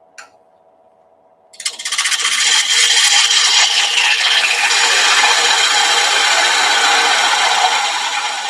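A gouge cutting a wooden lid spinning on a lathe, silent at first, then a loud, steady, close rasping shear that holds continuously to the end.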